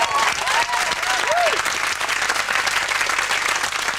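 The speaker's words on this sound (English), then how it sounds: "Round of applause for two teams!" A TV studio audience applauds two competing teams on a lunchtime show with steady, full, close applause throughout, and a brief whoop is heard early on.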